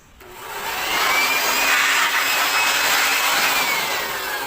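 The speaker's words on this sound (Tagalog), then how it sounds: "Kailangan ay lahat ng area ay mag-blower nyo, pati yung mga socket." A loud, steady rush of blown air from a blower drying a Nissan Juke engine after washing hisses close by, swelling in and holding continuously with a faint whine riding on top.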